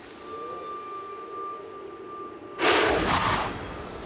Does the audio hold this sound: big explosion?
yes